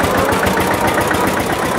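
Historic Fendt tractor engine running as it drives off, a close, steady mid-pitched chugging drone with no voices over it.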